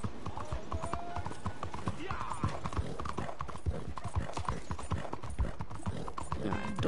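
Horse hooves clip-clop steadily as a horse is ridden in Red Dead Redemption 2, a dense, continuous run of close, even hoof beats with faint mechanical clinks beneath.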